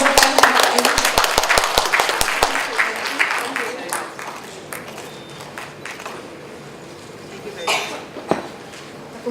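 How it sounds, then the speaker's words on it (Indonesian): Scattered audience clapping for a questioner at a national librarianship seminar, sharp distinct claps for a few seconds that thin out into room murmur and clatter, with a couple of late isolated claps. "Tepuk tangan dong untuk yang bertanya Bapak Ibu."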